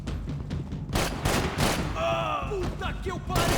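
Gunfire in the shooter game Max Payne 3, several loud bursts of shots in quick succession with game sounds, over music and voices talking.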